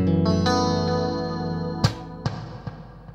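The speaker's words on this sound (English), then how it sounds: "Some reverb that comes with it." A GFI System Specular Reverb pedal on its diffuse mode adds reverb to a played chord that rings out and slowly decays, followed by a few sharp plucked notes whose tails wash and linger.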